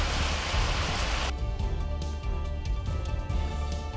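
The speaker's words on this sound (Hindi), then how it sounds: "रामबन में हुई तेज बारिश के बाद कई इलाकों में जल भराव का खतरा भी मंडरा रहा है।" Heavy rain falling in Ramban, Jammu and Kashmir, a dense steady broadband hiss that fills the whole stretch, briefly brighter at the start before settling into a constant wash, with no voices.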